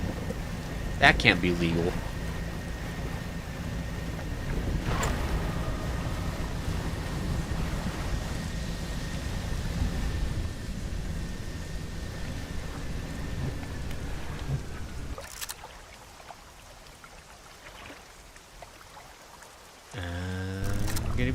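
A thunderstorm with lightning over water in the fishing video game Dredge, a steady wash of rain with thunder rumbles and a sharp strike early on; someone talks over it, and the rain later thins out.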